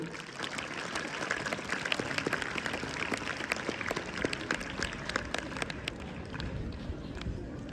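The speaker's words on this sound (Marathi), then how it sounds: "सगळ्यांनी टाळ्या वाजवू त्यांच्यासाठी" Crowd clapping at a school sports competition opening ceremony, a dense, irregular patter of many hands heard from a moderate distance, steady across the whole stretch with some background murmur.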